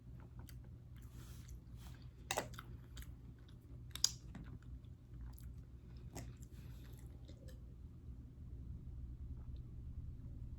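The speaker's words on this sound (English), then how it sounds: "There's pecans in here, so that's what I'm chewing." Close, quiet chewing of an ice cream and mocha frappuccino blend with pecans, a few soft crunches and bites scattered over a steady low background hum, with no talking.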